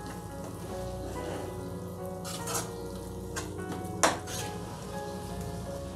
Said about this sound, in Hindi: और इसे भी हम अच्छे से मिक्स कर लेंगे।